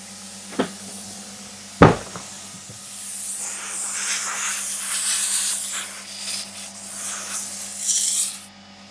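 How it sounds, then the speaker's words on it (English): Compressed air escapes from a leaking pipe fitting on a workshop air system, a steady rushing hiss that swells and wavers over several seconds, preceded by two sharp knocks and set over a low constant hum. "we've got a massive leak from somewhere around here"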